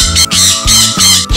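A sun conure parrot gives loud, harsh squawks in three or four bursts in quick succession, close and alone with no talking.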